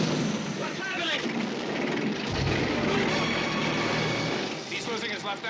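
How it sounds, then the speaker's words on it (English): Steady, loud roar of an aircraft's engines heard from inside the cabin as the plane's left engine fails in flight, a dense rushing drone throughout with a deeper rumble surging in partway through. "He's losing his left engine."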